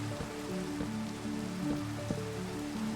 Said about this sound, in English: There's a bit of rain.